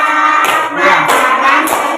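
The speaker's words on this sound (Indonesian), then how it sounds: "Boleh dengan tepuk tangan." A classroom of children claps together in a short burst of applause, several loud bursts of hand claps lasting about two seconds, close and busy, with no voices over it.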